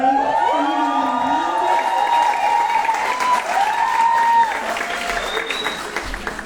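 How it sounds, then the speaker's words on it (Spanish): Audience applause at a feminist antifascist talk, sustained clapping with scattered cheers and whoops from a crowd, while voices carry faintly over it throughout. "también les voy a pedir que les brinden un fuerte aplauso"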